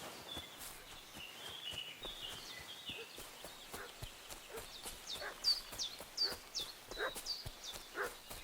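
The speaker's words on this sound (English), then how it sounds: "What's that dog making such a fuss about?" Dog barking and fussing in Kingdom Come Deliverance 2, a run of sharp barks and whimpers over soft footsteps and horse hooves, growing louder and more frequent toward the end.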